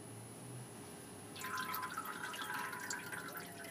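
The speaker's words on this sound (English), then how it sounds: "let that drain for a minute." Transmission fluid drains and drips from the pan of a Ford Super Duty 5R110W automatic transmission, a low trickle that swells into a steadier, louder liquid patter partway through, close by with no talk.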